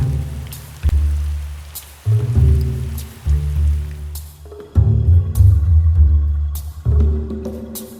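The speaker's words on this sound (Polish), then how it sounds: "W tym czasie na powierzchni zaczyna padać gęsty deszcz." Heavy rain falls on the surface near a cave-diving site, heard as loud, uneven bursts of splashing and drumming with brief dips between surges.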